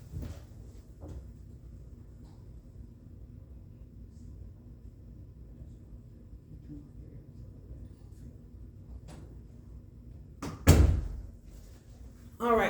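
A door is opened and closed at home, giving a single loud thump near the end over a quiet room with low background hum.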